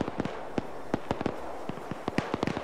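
Gunfire in the military game Arma 3: a rapid, uneven string of sharp cracks and pops, fairly distant, like a firefight across a battlefield.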